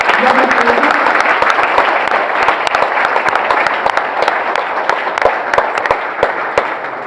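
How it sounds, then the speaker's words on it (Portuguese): Church congregation applauding the Lord in a loud, dense, steady wash of clapping that fills the space for the whole stretch, with a voice faintly mixed in beneath it. "Você pode se expressar, dando um forte aplauso ao Senhor"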